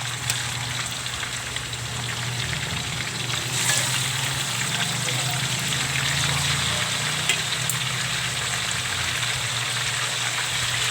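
Pork pieces fry in a pan as a second batch for a pork estofado with potatoes and saba bananas, a dense, steady sizzle and crackle that continues throughout without talk.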